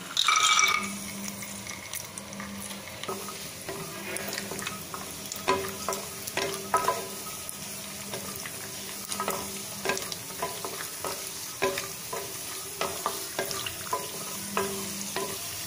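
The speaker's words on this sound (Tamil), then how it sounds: "நெய் சேர்த்துட்டு நான் இந்த அளவுக்கு முந்திரி பருப்பு எடுத்திருக்கேன். அதை சேர்த்துடலாம்." Cashew nuts fry in ghee in a pan while being stirred, with a steady soft sizzle, scattered spoon scrapes and taps, and a louder burst right at the start.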